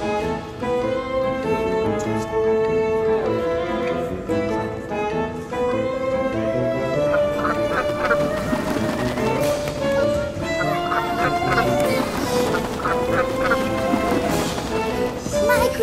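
Ducks quack and geese honk in a dense, continuous chorus of overlapping calls, loud and close, running steadily throughout with a faint voice beneath.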